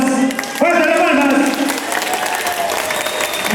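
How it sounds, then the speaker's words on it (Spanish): Guests at a civil wedding ceremony clap in sustained, dense applause, and a voice speaks over the clapping throughout. "Y vamos a aplaudir con voluntad, por favor"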